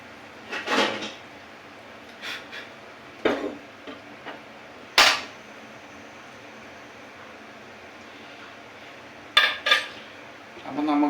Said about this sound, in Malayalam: ചെറിയൊരു ചട്ടി എടുക്കട്ടെ കേട്ടോ.